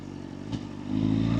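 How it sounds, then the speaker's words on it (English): A 2025 BMW S1000RR motorcycle with M package running in road mode, a steady throbbing engine and exhaust drone that swells slightly toward the end, close and loud with no crackle and no talk. "on road mode, you don't get all the crackling that you get when you put it on sport mode from the exhaust"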